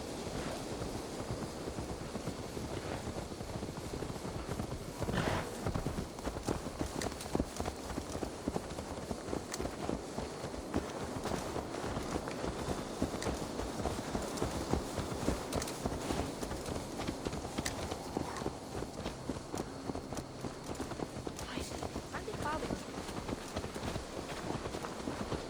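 Horse hooves clip-clop steadily in Assassin's Creed Valhalla, a continuous rhythmic trot of close, moderately quiet footfalls with light wind in the background.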